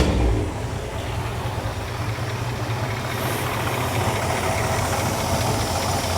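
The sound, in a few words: car engine starting and idling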